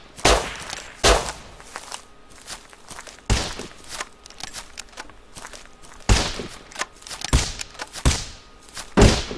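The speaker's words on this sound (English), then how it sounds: "Shit, shots." Gunfire in the survival game Rust: a handful of sharp, loud broadband cracks scattered irregularly, some close together, others spaced seconds apart, with faint shuffling and footstep-like thuds in between.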